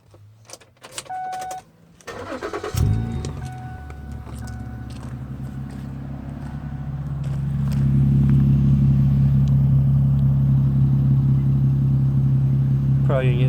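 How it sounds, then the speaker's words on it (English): A 2008 Ford Edge with a Streetmax Magnaflow knockoff muffler starts up after brief clicks and key jingles, the engine catching and settling into a steady deep idle that swells louder and holds. "Let's do a startup and sound. It's got a streetmax magnaflow knockoff muffler."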